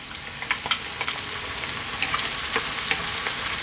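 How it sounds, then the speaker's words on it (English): A can of tomatoes goes into a hot pan for a spaghetti tomato sauce, bringing a steady, lively sizzle with crisp crackles and small pops throughout. "I'm now going to add that 1"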